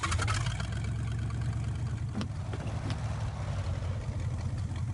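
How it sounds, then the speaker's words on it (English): A Retro Thunder vehicle's engine idling in a modded video game, a steady low mid-pitched rumble holding even throughout, close and unaccompanied by talk. "engine sound on the Retro Thunder is very nice"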